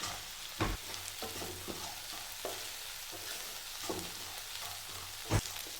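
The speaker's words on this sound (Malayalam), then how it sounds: "കഷ്ണവും നമുക്ക് നല്ലോണം വഴറ്റി പകുതി വേവാക്കി എടുക്കാം." Vegetable pieces, including drumsticks, being sautéed in a pan for a dried prawn theeyal, a Kerala curry. A steady close sizzle is broken by a few sharp scrapes of a stirring spoon, and no one speaks.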